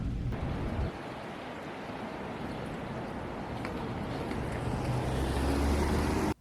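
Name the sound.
Niagara Falls waterfall heard from hotel room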